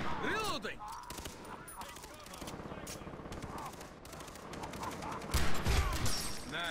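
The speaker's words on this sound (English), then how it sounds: "Headshot with a pistol." Gunfire in the video game Far Cry 3, a series of rapid sharp shots with a heavier burst near the end, mixed with other game noises while someone talks over it.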